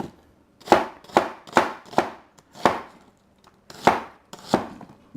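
A knife chops an onion into dice on a cutting board, about nine crisp, separate knocks at an uneven pace with short pauses between strokes, close and clear with no talking.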